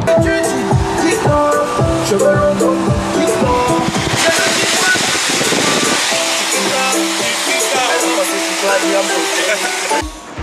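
Inside a quiet electric car driving along a road, steady tire and wind rush fills the cabin while music plays and other cars pass alongside, all loud and continuous.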